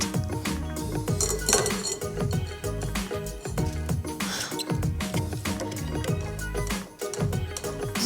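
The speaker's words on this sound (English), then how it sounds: "I'm just gonna strain it so that I get all the seeds out before I cook it." Strawberry puree is pushed and scraped through a metal sieve to strip out the seeds, giving continuous close clinking and rasping scrapes with rhythmic metallic taps.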